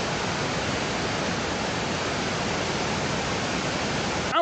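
Floodwater in a swollen river rushes steadily past after heavy rain, a dense, unbroken roar of broadband noise, loud and constant throughout with no talk over it.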